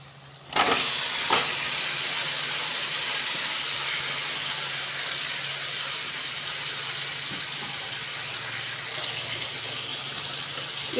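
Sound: chicken added to fried spice masala, sizzling

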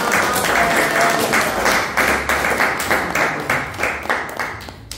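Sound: church congregation applauding

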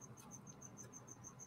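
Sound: pet crickets chirping

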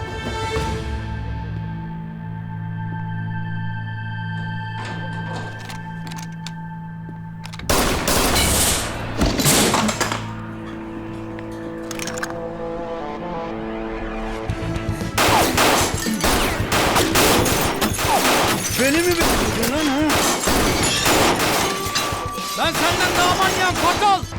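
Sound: gunfire

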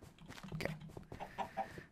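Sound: chickens clucking in video game Minecraft

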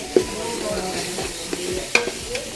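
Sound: onions and chilies sautéing in a pan

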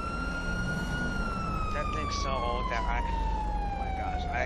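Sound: police car siren in GTA 5 video game

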